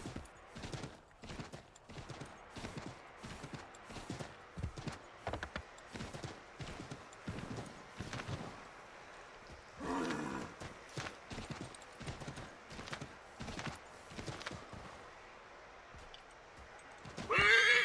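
Horse hooves clip-clop in an uneven rhythm, with a whinny midway and a louder burst at the end, from the video game AC3 Remastered with no talking.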